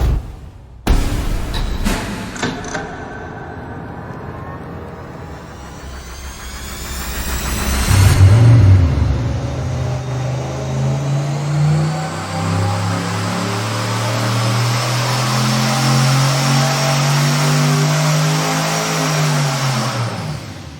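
A turbocharged engine on an engine dyno making a baseline pull, with a few sharp bangs, then a building roar that climbs and holds loud and close for over ten seconds, no talking.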